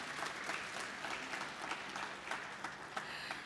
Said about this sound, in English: I'd like to give them a round of applause if you'd like to join me.